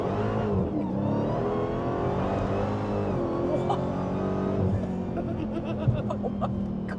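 A Dodge Demon 170 launches hard with wheelspin, its engine roaring loud and close in a steady, sustained surge with rising and falling harmonics throughout.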